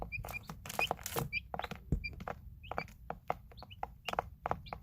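Eight-day-old chicks cheep in a small flock, with frequent short high peeps and soft pecking knocks, close and fairly quiet.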